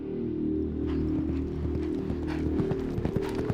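A 700-kilo horse at full gallop pounds out a fast, steady clip-clop of hooves, close and loud, with a rumbling low undertone and no voices.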